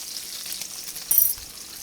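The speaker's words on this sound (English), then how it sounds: "But I am cooking them in the pan because what I want is that bacon grease or bacon fat" Bacon frying in a pan, a close, steady crackling sizzle with a brief louder burst of spitting fat partway through.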